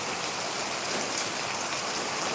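Heavy rain pouring down during a storm in a village, a loud, dense, unbroken roar of water that holds steady with no voices.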